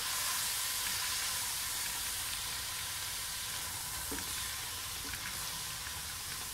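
Vegetables sauté in a pan with a constant hiss and crackle of sizzling oil, soft and steady, with a faint stir or tap now and then.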